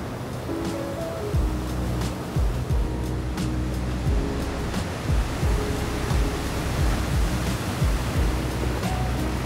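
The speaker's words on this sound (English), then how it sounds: "You can feel the power of the waterfall" Niagara Falls thundering at an overlook, a constant dense roar of falling water, loud and steady throughout with faint low thumps mixed in, no voices.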